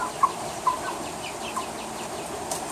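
Eight-week-old backyard chicks cluck and peep softly near the microphone, a few short calls scattered over low ambient noise, with no talking.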